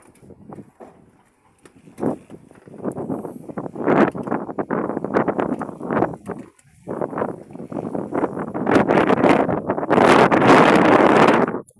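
Gusty outdoor wind under a sky threatening rain buffets the microphone in uneven bursts. It starts fitfully, builds to a sustained loud rush in the second half and has no voices.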